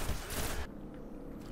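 Pulse rifle fire in the video game Destiny, a quick burst of shots followed by a fading boom and a lingering low rumble, loud and close.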